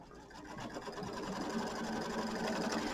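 A sewing machine tacks down quilt batting with a quiet, steady rapid stitching whir that holds evenly throughout.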